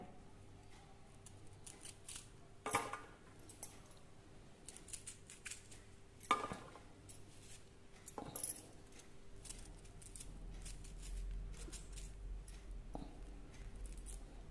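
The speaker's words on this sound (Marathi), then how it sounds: "हे बघा या अशा मुळ्याच्या शेंगांना मी चिरा करून घेते" Quiet, sparse snips and small clicks as radish pods are slit before being coated with curd, with a few louder cuts standing out among faint handling noises and a low steady hum.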